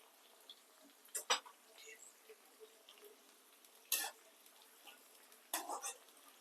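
Curry leaves, green chilies and shahjeera are dropped into hot oil, giving a faint steady sizzle broken by three short, sharp crackling bursts as the spoon stirs.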